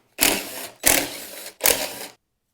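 Three short bursts from a power tool or impact driver loosening three bolts on the bearing mount of an Ariens snowblower, each lasting about half a second with brief gaps between, loud and close, no talking.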